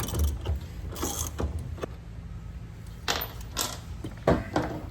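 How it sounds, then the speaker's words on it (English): Big ratchet with a 3/4 inch socket turning a nylon locking nut during a tilt helm installation, giving irregular metallic clicks and clanks in short bursts, close and moderately loud. "I've got a big ratchet with a 3/4 inch socket"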